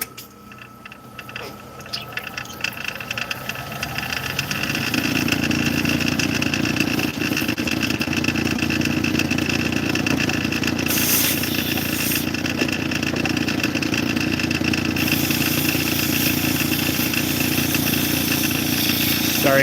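A lapidary grinding machine fitted with Nova wheels runs on a large opal, starting up and settling into a loud, steady whirring drone with a faint mechanical rattle, running continuously without speech.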